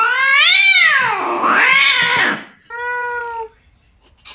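A cat lets out a long, loud, wavering meow that dips and rises, followed by a shorter, steadier second meow, close to the microphone with no other sounds.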